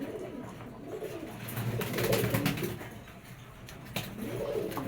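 Spanish racer pigeons coo in soft rolling phrases, one near the start and another toward the end, close by, over a low background hum with faint rustles and a brief click.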